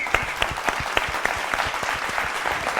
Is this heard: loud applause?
yes